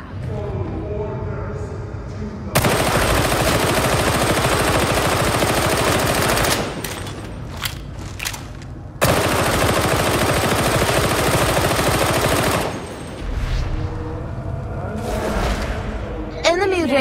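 Sustained automatic gunfire at enemies in the game Darktide, two long, loud, continuous bursts separated by a short pause, followed by scattered single shots, with a voice talking over parts of it.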